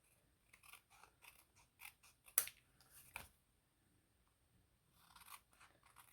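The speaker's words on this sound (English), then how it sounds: "we can turn this over and just trim it" Scissors snip along the edge of a paper card in a series of quiet, crisp cuts, with one sharper snap midway and soft rustling between them.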